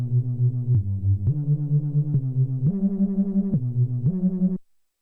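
A buzzy, distorted synthesizer with an octave layered in the stereo sides plays a steady pulsing line of about eight notes that step up and down in pitch, then stops.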